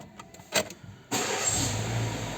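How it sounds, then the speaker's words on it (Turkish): A car engine, recently repaired for rough idle and shaking, catches on the first crank: a few clicks and a brief starter whir, then it fires and settles into a steady, loud close-up idle. "Şimdi çalıştırıyorum tek marşta çalışacak."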